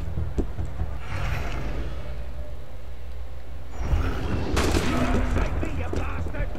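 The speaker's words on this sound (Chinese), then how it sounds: "有人开枪打我！" Gunfire in the historical action game Assassin's Creed Unity, set in revolutionary Paris, comes as bursts of shots over a continuous rumbling game soundscape, with a louder cluster of shots partway through.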